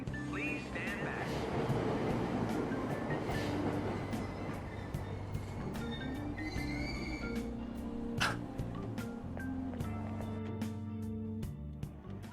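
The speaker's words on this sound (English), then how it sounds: "Train doors are now closing. Please stand back." A train pulls out of a station in the video game Persona 5 Royal, rolling with low rumble, rhythmic clacks and metallic squeals, while voices talk over it.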